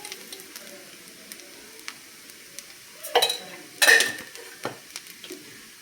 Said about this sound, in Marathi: मिक्स करून घेऊया छानपैकी